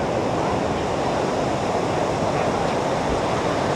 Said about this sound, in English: in this case, the rough surf